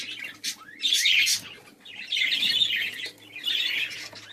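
Budgerigars chirp and chatter in bright, rapid bursts with short pauses between, close by and clear against a quiet background.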